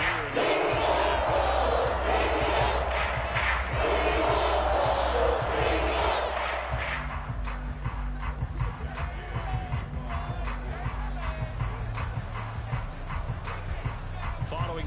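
A football stadium crowd roars and cheers after a touchdown, a loud dense wall of voices that eases slightly partway through while the noise carries on.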